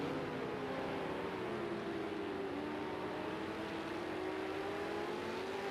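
V8 Supercar race cars lapping Silverstone in a racing game, engines droning loud and continuous with a wavering, rising and falling pitch as they hold power through the corners.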